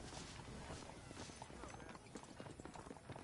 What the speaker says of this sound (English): I asked Nastas to bring the horses around front.